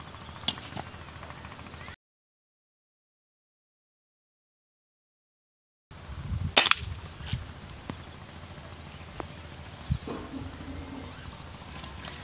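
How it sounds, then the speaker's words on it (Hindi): An air rifle fires a single check shot at a target during scope zeroing, making one sharp, close crack followed by faint handling noises. "चेक शार्ट करते हैं गन को चेक करने के लिए, देखते हैं कहाँ पर लगता है।"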